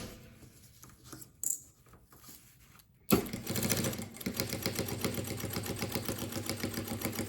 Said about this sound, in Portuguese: Termino a costura de uma lateral com retrocesso.